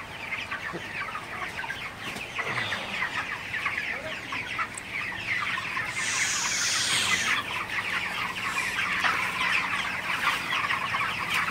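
Broiler chickens cluck continuously in a crowded poultry shed, a dense, nearby chorus of overlapping calls over the steady whoosh of a running fan.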